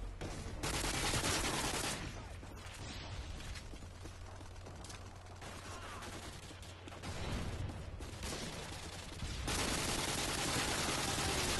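Gunfire in a first-person shooter video game, continuous rapid bursts of shots rolling on for several seconds, loud and steady with no talking.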